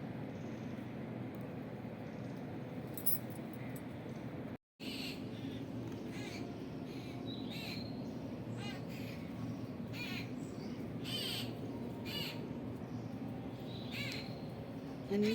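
Crows caw repeatedly among other birds on a morning when birds are being fed, their harsh calls popping out at intervals over a steady low background hum, moderately near but not loud.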